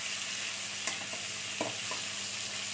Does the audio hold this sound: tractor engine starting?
no